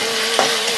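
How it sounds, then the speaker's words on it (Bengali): Spice paste sautéing in oil for a prawn pilaf, a dense, steady hiss of frying with one faint scrape partway through, close and unbroken by speech. "যত ভালো কষানো হবে মশলাটা তত ভালো হবে।"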